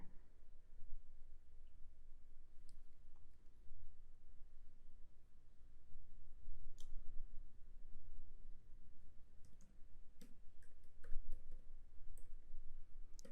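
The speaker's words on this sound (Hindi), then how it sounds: "एक हाथ से टाइपिंग कर रहा हूँ" One-handed typing on a computer keyboard, sparse irregular clicks with uneven pauses, fairly faint over a steady background hiss.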